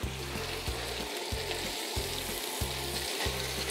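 Food frying steadily in a hot pan while making a brioche with figs and walnuts, a dense continuous sizzle with rhythmic stirring scrapes and no talking.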